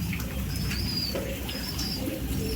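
Pigeons coo softly in a rain-flooded loft, with several short calls rising over a constant wet, pattering background.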